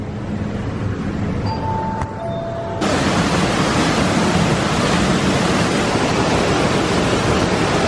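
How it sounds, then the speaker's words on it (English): Rushing water of Dambri waterfall near Bao Loc, Vietnam, a dense steady roar with no break that swells noticeably louder after a few seconds and then holds, with no voices. "I've never seen a waterfall with a lift."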